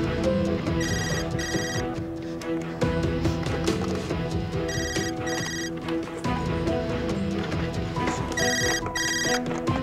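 A mobile phone ringtone plays in repeated bright electronic bursts, about three rings spaced across the span, over a dense bed of background music and ambience.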